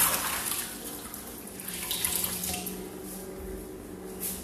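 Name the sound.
washing hands under running tap water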